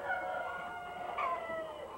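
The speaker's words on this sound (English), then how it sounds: "The girl chickens are called hens." Hens clucking and murmuring inside a chicken house on a farm, a continuous soft chorus of birds at close range with one brief louder call in the middle.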